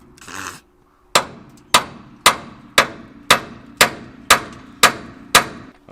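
Ten sharp metallic hammer blows against a Ford F250 tie rod, struck at a steady, even pace with a short ringing decay after each impact, loud and close with no talking.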